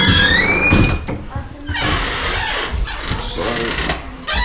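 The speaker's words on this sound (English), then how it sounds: "a very squeaky door, look at that." An old, very squeaky door at a Dales countryside museum swings open with a rising, whining squeal, followed by scraping and clattering while someone speaks nearby.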